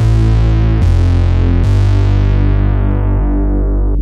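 A thick, heavy layered synth bass without EQ plays three sustained notes with booming low end, loud and alone, the last note decaying away.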